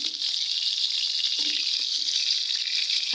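Constant hissing sizzle of eggplant frying in a pan, even and close throughout, with a few faint low knocks and no speech.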